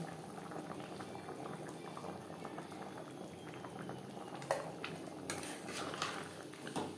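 Chicken and potato curry simmering in a pot, a faint continuous bubbling boil with a few soft clinks of a utensil near the end, no speech.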